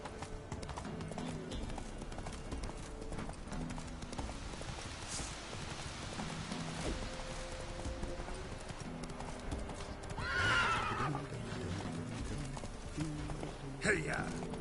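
A horse in a video game clip-clops along at a steady pace and lets out a whinny, faint and set back among ambient game sounds, with someone speaking over it.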